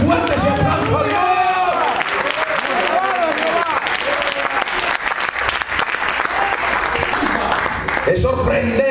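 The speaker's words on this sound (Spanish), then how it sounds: "dale fuerte ese aplauso a Dios." A Pentecostal church congregation applauds loudly and steadily throughout, with cheering voices and music mixed into the sustained clapping; the applause swells briefly near the end.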